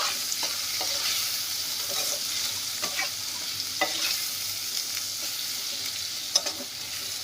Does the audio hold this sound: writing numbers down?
no